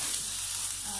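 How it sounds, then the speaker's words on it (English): Steak frying in a hot pan gives a steady, close sizzle with a constant bright hiss, heard alone with no talking. "Sizzling."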